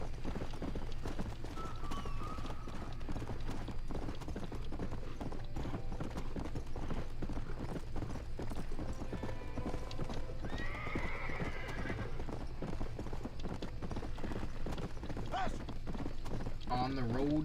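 Steady clip-clop of horse hooves running throughout, with a horse's neigh partway through and someone talking over it, in the video game Red Dead Redemption.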